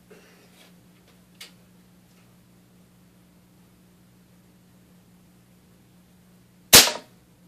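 A Daisy air gun fires a .22 wadcutter pellet: one sharp, loud crack near the end, after a long quiet stretch with a low steady hum and a faint small click earlier.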